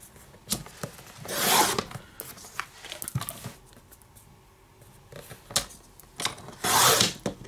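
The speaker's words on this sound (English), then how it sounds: "I'm going to go ahead and cut these down to a couple more lengths" Crepe paper being cut into strips of several lengths for layered paper rosettes, with scissor snips, crinkling and rustling in irregular bursts and two longer rasping cuts, close up and without talk.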